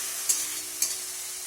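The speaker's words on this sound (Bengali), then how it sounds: "এখন মশলাটা ভালো করে কষিয়ে নিতে হবে" Spice paste with chilli powder and a splash of water frying and being stirred for a silver carp fish curry, giving a steady soft sizzle with two brief scraping stirs, close and fairly quiet with no voices.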